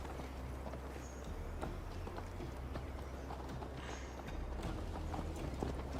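Horse hooves clip-clopping at a steady brisk pace in Assassin's Creed Valhalla, rhythmic thuds close by over a dense continuous background of ambient game sound.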